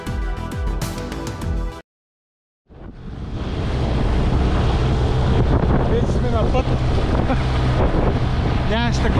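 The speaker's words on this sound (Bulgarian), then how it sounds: "Такова екстремно пускане на лодка. Двигателят се задави. Вятъра е много силен." An outboard boat motor runs at the shore of Ivaylovgrad reservoir in strong wind, with the engine choking. A short burst of engine sound breaks off into a silence, then loud, steady roaring wind buffets the microphone.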